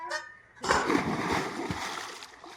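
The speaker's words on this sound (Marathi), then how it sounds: "बघा मित्रांनो मामाने डुबकी मारली पाण्यामध्ये" A sharp splash of someone plunging into a swimming pool, followed by a couple of seconds of churning, sloshing water.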